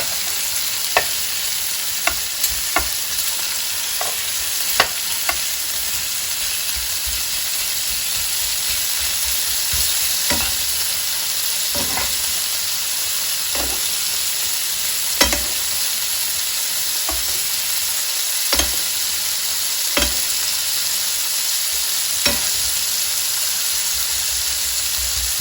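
Curry chicken skewers sizzle steadily in a pan, a constant frying hiss broken by occasional sharp clicks and taps as the skewers are turned, with no talking.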